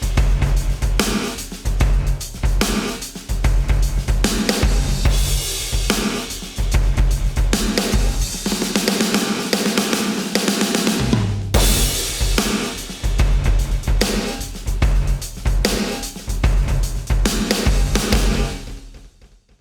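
A Yamaha DTX electronic drum kit played with gated reverb and an eighth-note tempo delay, giving a loud, steady groove of punchy kicks and snappy hits with echoing tails, alone without talk and with a brief break near the middle.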